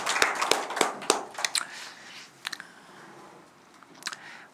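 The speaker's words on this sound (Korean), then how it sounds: "우리 다 한번 환영의 박수를 하면 좋겠습니다" Sparse, scattered hand claps from a church congregation welcoming visitors during a Sunday service, a few sharp near claps early then thinning to isolated ones, fairly quiet with room ambience.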